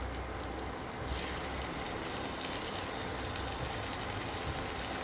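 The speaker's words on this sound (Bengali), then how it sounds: "মশলাটা এইভাবে ভেজে যাবে।" Spices with turmeric fry in a pan, giving a steady, dense sizzle and crackle that holds evenly throughout at close range, with no talking.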